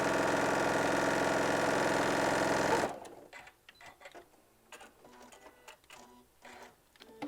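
A sewing machine stitches quilt pieces for a hummingbird panel in one loud, steady, continuous run, then stops abruptly, leaving quiet handling sounds and faint rustling.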